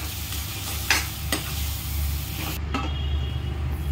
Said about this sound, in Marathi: एकदा याला आता अजून ढवळून घेऊ छान.